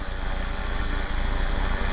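An HK 450 GT radio-controlled flybarred helicopter whines close by, a steady high-pitched rotor and motor drone with a fast whirring beat that holds constant throughout.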